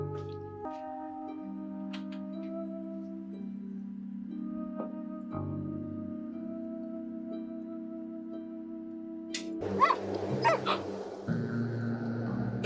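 A dog whimpers and whines in thin tones over a sustained musical drone, then bursts into a few sharp yips and barks near the end.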